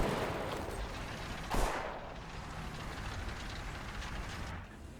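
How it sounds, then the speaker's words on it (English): Gunfire from a tank's roof-mounted pop gun in War Thunder, a single sharp burst standing out over continuous engine and battlefield rumble. "Loving the pop gun on top."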